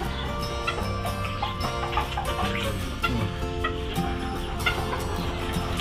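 Chickens cluck and chatter continuously at close range while being fed vegetable peels on a backyard vegetable farm, with steady overlapping calls and no talk.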